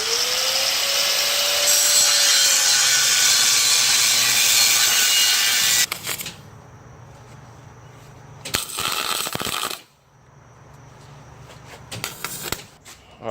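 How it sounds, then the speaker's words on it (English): A power tool cuts through steel plate for welding up a limited-slip differential, a loud sustained grinding whine that stops and restarts in several bursts, close by with no speech. "we're going to cut a plate from steel"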